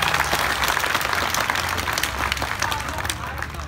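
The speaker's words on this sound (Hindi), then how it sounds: "एक बार जोरदार ताली बजा दे" Crowd applause at a comedy show, a burst of dense clapping from the audience that holds steady then gradually thins, with voices and cheering mixed underneath.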